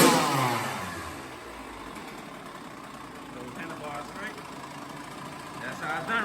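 A 2012 Kawasaki KX100 dirt bike engine idles steadily after a cold first-kick start, a continuous buzzing hum heard close up with a faint voice in the background.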